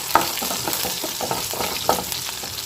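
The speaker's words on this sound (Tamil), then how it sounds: "இந்த வரமிளகாயும் சேர்த்து நல்லா வதக்கிக்கலாம்." Five or six dried red chillies sizzle and crackle in hot oil in a pan, a steady close frying hiss broken by occasional stirring scrapes, with no voices.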